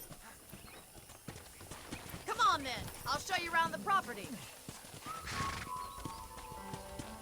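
Horse hooves clip-clop in a steady rhythm while riding in the Western video game Red Dead Redemption, with a whinny and game music, and a person talks over them.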